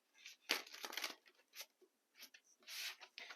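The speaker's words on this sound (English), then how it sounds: "Do some shuffling." Tarot cards shuffled and riffled in quick, papery bursts with brief pauses between, close by and fairly soft.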